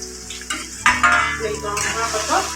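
Onions drop into hot oil in a pan and sizzle loudly and close by, with bursts of crackling and a few clinks of a utensil as they fry.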